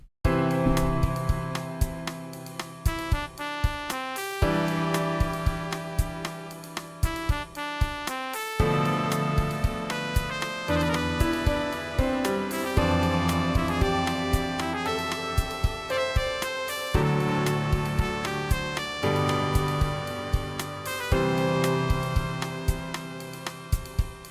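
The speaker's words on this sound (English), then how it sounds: "I added some trumpet over the piano," Trumpet melody playing over steady, rhythmic piano chords, continuous and fairly soft throughout, with no talking.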